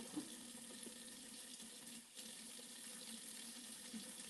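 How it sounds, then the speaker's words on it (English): Steady running tap water at a kitchen sink while hands are washed, continuous and close, with small splashing variations and no talking. "I just wash my hands here real quick."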